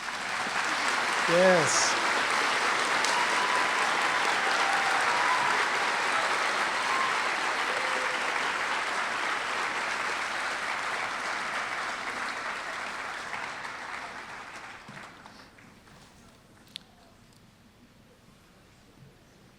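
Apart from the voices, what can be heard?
audience applause at science fair awards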